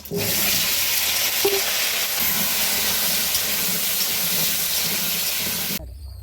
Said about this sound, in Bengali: তেলটা গরম হয়ে গেছে শুকনো লঙ্কা পাঁচ ফোড়ন দিয়ে দেবো তারপর সবজিটা দিয়ে দেবো